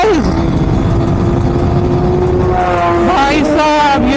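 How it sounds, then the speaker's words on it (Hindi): A Kawasaki ZX10R superbike roars past at a roadside drag-race gathering, its high-revving engine screaming close and loud, then dropping in pitch as it flies by, with another engine note rising near the end. "ओ भाई 10R का फ्लाई बाय चेक किया गाइस"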